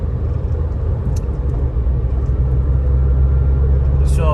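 A Peugeot 106 with a single-point carburettor engine, driven gently while low on fuel, gives a steady close low rumble of engine and road noise inside the cabin.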